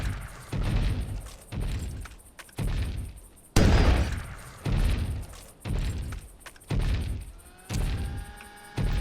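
Gunshots in the video game Carnivores Fallen Kings: a series of heavy, booming shots fired at an evenly spaced, steady rhythm, each with a loud thudding report and short decay, alone without talk.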